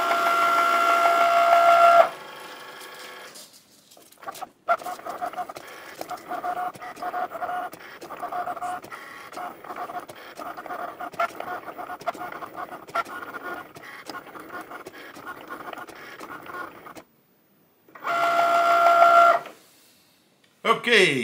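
Cricut Maker cutting machine working through material, a busy stream of whirring motor movement and clicking, with a louder tonal motor sound at the start and again near the end and short quiet gaps in between.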